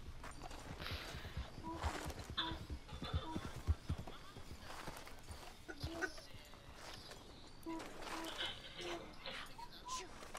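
Horse hooves clip-clopping in Red Dead Redemption 2, a steady, moderately close rhythm under people chatting, with faint farm-animal sounds in the background.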